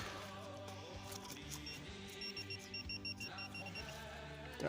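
A metal detector gives thin, high electronic beeps in a short repeating pattern, faint and somewhat distant, over a low background hum.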